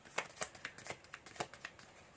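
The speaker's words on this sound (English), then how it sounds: "Hard to shuffle." Tarot cards being shuffled by hand, a quiet, close series of riffling flicks and soft slaps in an irregular rhythm, about a dozen bursts with no talking.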